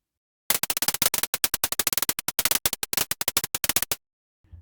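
A Wheel of Names app wheel spins with a rapid run of sharp ticking clicks, dense at first and then irregular, ending after about three and a half seconds, followed by a faint final tick.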